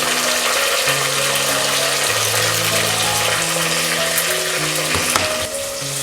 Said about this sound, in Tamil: இப்போ தக்காளி சேர்த்துக்குவோம்.